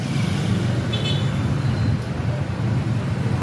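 Monday morning road traffic, a steady dense roar of cars idling and creeping along a busy street, with a brief faint horn toot partway through and no talking.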